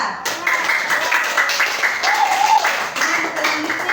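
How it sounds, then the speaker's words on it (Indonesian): An audience claps for group 2 after its presentation, a steady wash of applause lasting several seconds, with voices heard over it. "Sekali lagi beri aplaus untuk kelompok 2."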